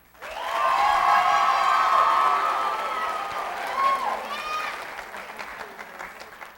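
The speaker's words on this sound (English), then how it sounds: "let me hear a round of applause" A crowd's applause swells quickly and holds steady, mixed with cheering and shouting voices, then gradually thins out toward the end.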